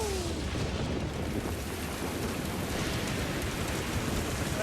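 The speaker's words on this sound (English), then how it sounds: "It's raining!" Steady rain falls in a constant hiss and patter, fairly close and even throughout with no gaps.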